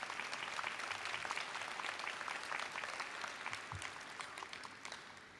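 Sustained applause from a large audience at a high school graduation ceremony, thick and even throughout with scattered sharper claps, no voices standing out.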